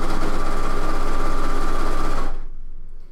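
A sewing machine stitches steadily down the side seam of a top, a loud continuous mechanical whir with a buzzing hum that runs evenly for about two seconds before stopping abruptly, leaving quiet room tone.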